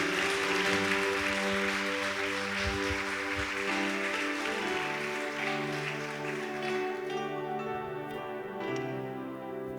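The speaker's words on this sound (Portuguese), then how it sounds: "Pode aplaudir a Jesus." Applause from a church congregation rolls through the sanctuary under sustained music chords, the clapping strongest at first and then gradually thinning and fading as the music carries on.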